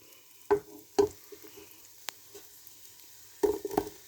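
Boiled pasta tipped into a pan of softened onions and tossed, with a few distinct scraping, stirring bursts and a light sizzle between them, fairly close and moderately loud.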